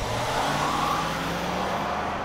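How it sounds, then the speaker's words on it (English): A 2019 GMC Sierra Denali 1500 4x4 pickup with a turbocharged V6 engine drives along, giving a muted, steady engine drone blended with road and cabin noise. "Denali's engine note is very rich, but this is a luxury truck and it's pretty quiet, so it's kind of distant and removed"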